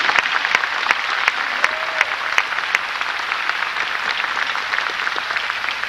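Crowd applauding at the 1990 Grumman rollout of the first plane built in Mississippi, a steady dense wash of clapping throughout with a few sharper individual claps standing out.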